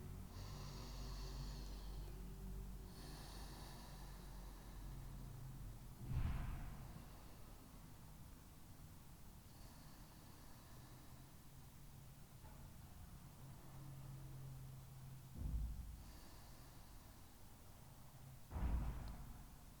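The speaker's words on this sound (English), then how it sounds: "We'll take 3 deep breaths here." Slow, deep yoga breaths during a practice session, heard as a few soft, widely spaced exhalations rising faintly above a quiet, low background hum.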